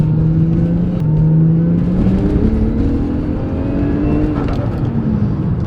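A manual Toyota Crown pulls hard in second gear, its engine note climbing steadily and loud from inside the cabin, one continuous rising drone with no pause.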